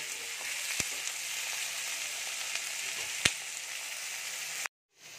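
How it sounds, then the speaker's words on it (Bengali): Paneer and green chillies sizzle steadily in a frying pan while being gently stirred, with a couple of sharp clinks from a spatula against the metal before the sound abruptly stops. "এইগুলো হালকা করে নাড়াচাড়া করে নেব"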